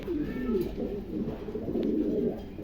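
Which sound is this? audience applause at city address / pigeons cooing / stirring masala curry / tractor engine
pigeons cooing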